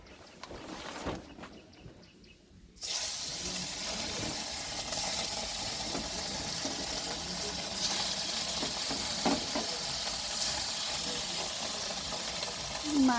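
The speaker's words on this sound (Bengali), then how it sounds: "তেল দিয়ে মাছটা ভাজবো" Fish frying in oil in a wok for a birthday meal, a steady broadband sizzle that starts abruptly after a quieter opening of a few seconds and then continues evenly and close up to the end.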